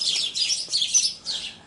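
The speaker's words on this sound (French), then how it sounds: "Les oiseaux." Birds chirp in a garden, a run of high, thin tweets in short clustered bursts, moderately close, with no talk over them.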